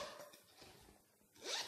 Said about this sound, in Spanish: Y viene este bolsito, este de aquí, con cremallera.